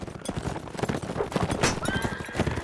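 Horses gallop in a Mount & Blade tournament melee, a dense run of overlapping hoofbeats with a loud whinny mixed in, busy and continuous throughout.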